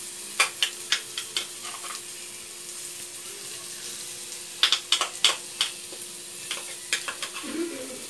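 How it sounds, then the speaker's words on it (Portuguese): A pan with just a little oil sizzles softly throughout while a utensil stirs the food, its sharp scrapes and clinks landing in irregular bursts. "Vou dar uma fritadinha"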